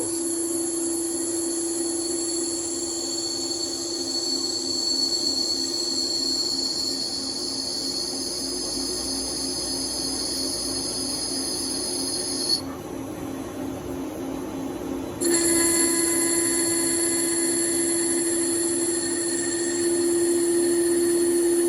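Nakamura CNC turning center cutting a part, removing a sixteenth of an inch per pass: a steady, loud machining whine with high tonal lines and broadband hiss, briefly shifting midway before resuming, no talking.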